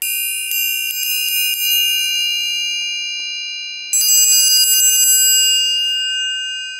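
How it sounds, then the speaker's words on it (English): A 6-inch Black Swamp artisan steel triangle rings out bright and shimmering, struck once and left to sustain, then struck again with a quick flurry of taps before the ringing slowly fades. "A steel instrument like this is really, really great for a traditional triangle sound."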